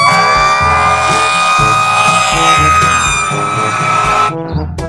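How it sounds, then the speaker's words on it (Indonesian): Loud, close fire truck siren with a steady wailing tone and a pulsing low horn-like pattern underneath, cutting off near the end. "Di sini ada mobil pemadam kebakaran."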